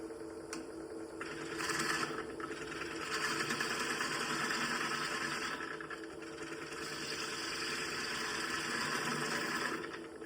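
Wood lathe spinning an old, previously turned bowl at a raised speed, with a steady whirring machine drone and scraping tool cuts swelling and easing throughout, close and continuous.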